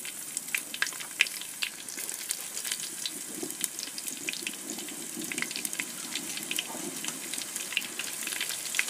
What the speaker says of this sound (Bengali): পেঁয়াজও দিয়ে দিচ্ছি।